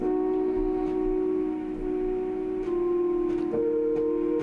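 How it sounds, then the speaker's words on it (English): A steady, slightly lo-fi synthesizer drone, isolated by AI stem splitting in Ableton 12.3, holds one pitch, then shifts, with faint tape hiss and clicks underneath. "So the synth stem kind of sounds like this."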